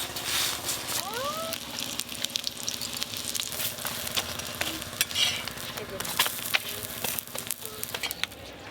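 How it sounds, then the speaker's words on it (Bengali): Steady frying sizzle of chicken rolls in a pan, with occasional clinks and faint voices in the background. "এটাই সব থেকে লাস্ট রোল ভাজা হয়ে গেল।"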